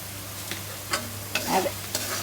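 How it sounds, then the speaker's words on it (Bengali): Pigeon meat stirred and fried in a large wok, with a low sizzle under a steady hum and several distinct scraping strokes of the spatula at an unhurried pace. "অনেকদিন পরে এত বড় কড়াইতে রান্না করতেছি"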